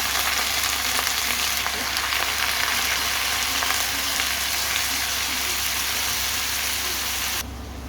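Peanuts sizzle and fry in a hot pan for a home-cooked spinach dish, a loud, steady crackling hiss that runs unbroken and drops slightly in level at the very end.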